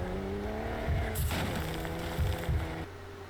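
Sound design for a Ford Raptor truck commercial: a sudden burst of dirt impact and a spinning, tire-squealing rush over layered engine-like tones, all in a few seconds.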